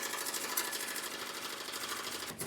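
An embroidery machine stitching gold thread into a sherpa throw, its fast needle rattling in a steady mechanical chatter, close and constant throughout.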